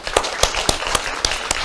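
Congregation clapping at an Easter Sunday church service, a handful of distinct, evenly spaced claps in a steady rhythm, close and fairly loud.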